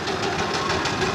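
A miniature Allchin steam traction engine runs at the Great Dorset Steam Fair, giving off a quick, steady chuffing beat with a mechanical knocking rhythm, close and continuous.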